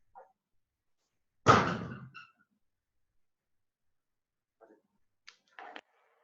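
Someone banging on a door: a single heavy thud rings out, followed seconds later by a few fainter knocks and taps, in an otherwise quiet room.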